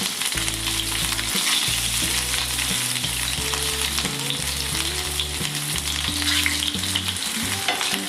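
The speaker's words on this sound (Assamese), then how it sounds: "এই মছলা ভৰাই থোৱা কেৰেলাখিনি আমি ইয়াতে গৰম হোৱা তেলত এটা এটাকৈ দি দিম" Masala-stuffed bitter gourds fry in hot mustard oil with a loud, continuous sizzle and crackle, heard close by. Steady musical tones play underneath.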